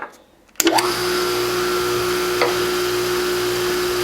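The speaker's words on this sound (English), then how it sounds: "after I run it through the grinder, or run it through the buffer here" A buffer wheel spins up abruptly and holds a steady, loud whine while polishing a scratched DVD, with a brief contact rasp partway through.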